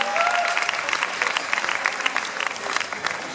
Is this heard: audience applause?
yes